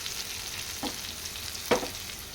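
Brinjal pieces frying in oil for a Telangana stuffed eggplant curry, a low steady sizzle broken by two brief scraping stirs, the second louder.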